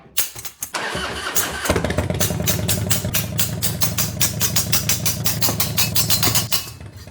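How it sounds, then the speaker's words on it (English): A fuel-powered hole punch engine cranks, catches and runs in a loud, rapid rhythmic chug, then cuts out near the end as it stalls. "But then my hole punch stalled out. I think I made the fuel mixture too rich"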